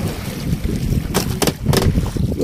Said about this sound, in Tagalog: dahil lakas yung hangin at malaki yung alon.